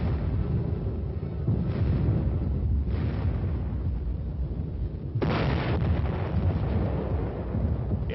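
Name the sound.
artillery field guns firing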